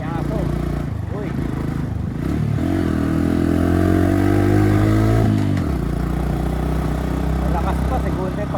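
A Honda CB110 motorcycle climbs uphill in second gear, its engine droning close and loud with a strained, rising pitch, rattly clatter and scraping, while someone talks over the ride.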